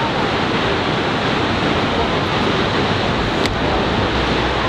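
Linville Falls waterfall roaring as a steady broadband hiss of falling water, constant and fairly loud with no pauses, a single faint tick partway through and no talking.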